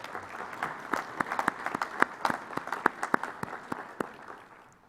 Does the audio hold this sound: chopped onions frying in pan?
no